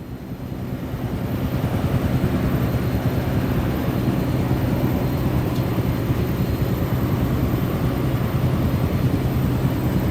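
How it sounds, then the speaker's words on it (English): A Westland Scout helicopter in the flight simulator Microsoft Flight Simulator 2020 gives a steady, low rotor and engine drone that swells in at the start and then holds constant. "it makes you kind of feel like you're flying a helicopter with that sound"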